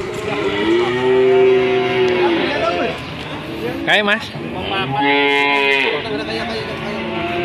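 Loud, close Belgian Blue cattle mooing at a market, several long low bellows in a row, with people talking nearby.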